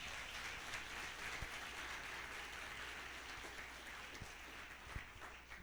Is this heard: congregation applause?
yes